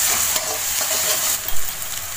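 Ginger garlic paste sautés in a pan for aloo matar masala curry, a loud, close, continuous sizzle with soft stirring scrapes and a low bump of the utensil partway through.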